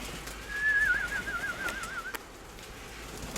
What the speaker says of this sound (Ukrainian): Тут багато є що і пізні голуб'ята, тобто ще не зовсім перелиняні.